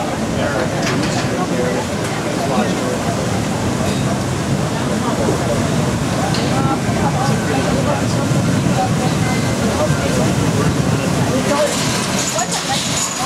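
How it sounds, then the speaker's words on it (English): An old paddle steamer slowly gets underway on Lake Garda, giving a steady, continuous churning rumble of engine and water that holds at an even loudness throughout, with some voice-like activity mixed in. "this marvellous old paddle steamer illustrated that as she slowly but surely got underway"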